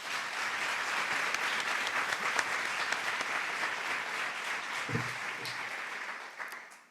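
An audience at a 2015 curators conference applauds in a steady, dense burst of clapping that fills the room for about seven seconds before tapering off at the end.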